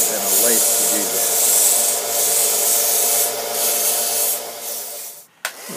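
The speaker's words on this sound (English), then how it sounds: "we'll use a belt sander and a lathe to do that" Belt sander rounding off end caps for a Zenith Trans-Oceanic radio battery build: a close, steady abrasive rasping runs for about five seconds, then cuts off with a brief knock.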